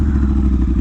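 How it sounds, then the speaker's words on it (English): A 2022 Triumph Bonneville Bobber motorcycle engine running steadily during a ride, a loud close low throb lasting under a second. "This is the 2022 Triumph Bonneville Bobber."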